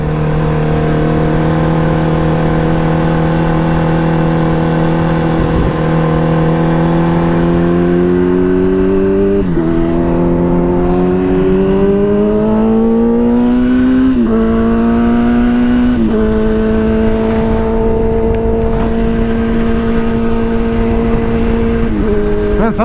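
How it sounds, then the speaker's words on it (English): Kawasaki ZX10R motorcycle engine heard from the rider's seat, a loud, steady drone that climbs in pitch through several gear changes, with wind noise beneath. "sometimes I forget how good this bike sounds"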